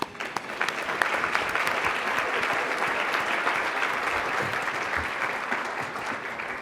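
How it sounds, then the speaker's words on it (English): Sustained applause from an audience, many hands clapping steadily at a moderate distance for several seconds. "I think we should give them a nice round of applause"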